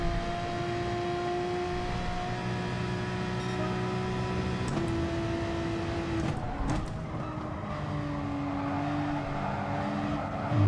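A race car is driven in a racing video game. Steady engine drone runs throughout with shifting tones, and a whining tyre squeal comes through the corner.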